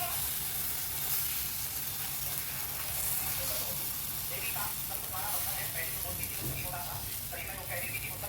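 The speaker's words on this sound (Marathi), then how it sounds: "तर असेच आपल्याला सर्व पराठे टाकून घ्यायचेत बघा" Parathas frying in oil on a hot pan give a continuous bright sizzle with small crackles and spits throughout, steady and close.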